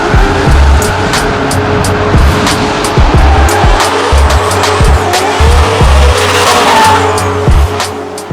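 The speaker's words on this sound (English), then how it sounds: "this is my VF Holden Commodore." 800hp supercharged 6-litre LS V8 Holden VF Commodore drift car with loud, continuous tire squeal and skidding over a roaring engine, close and intense, with rhythmic surges as the car slides.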